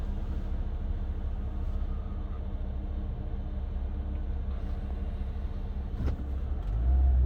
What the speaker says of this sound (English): light, turn green so I can avoid this noisy bus